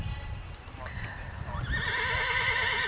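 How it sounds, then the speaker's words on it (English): Purebred stallion neighing loudly at an in-hand horse show, a long wavering whinny rising over arena background noise and faint hoof clops. "It's a purebred section of the stallion, Cyrus Contender MWA, owned by Lisa Smith"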